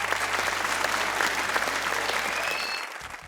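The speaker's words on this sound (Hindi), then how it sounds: "तालियां होनी चाहिए" An audience breaks into steady, dense applause at a lively game-show style event, loud and continuous for about three seconds before tapering slightly at the end, with no voices standing out.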